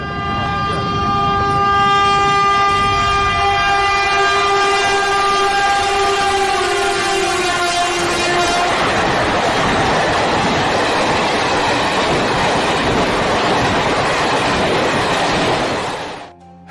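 A train rolls close by, its horn blaring in a long sustained blast for the first half and then giving way to a loud roar of wagons rushing past until the end.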